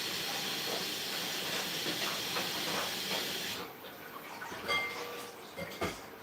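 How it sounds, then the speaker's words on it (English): Spinach steams in a pot while cooking okra soup, a loud steady hiss that drops away partway through, leaving quieter clinks and soft kitchen sounds. "The spinach is going to steam for only 2 minutes."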